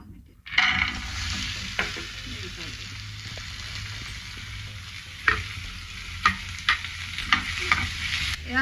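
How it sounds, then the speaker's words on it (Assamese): Paneer frying in hot oil in a home kitchen, a steady sizzle running throughout with scattered scraping clicks of a spatula stirring the pan, close and fairly loud. "ভাজি ল'ম"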